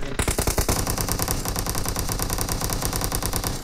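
Automatic weapon fire in the PUBG mobile game, a loud, sustained rapid burst of gunshots in tight, even rhythm that continues without a break from start to finish.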